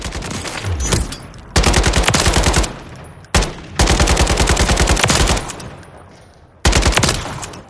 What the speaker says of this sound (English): So let's go ahead and we'll jump with the firing range. Starting with the RPK.